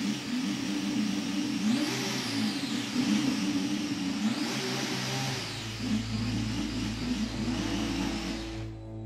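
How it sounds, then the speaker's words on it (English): A Ferrari Formula One engine running in the garage, a loud mid-pitched mechanical roar rising and falling in a couple of rev swells before settling into a steadier, lower hum near the end. "the firing up of the engine. The team don't like what they hear"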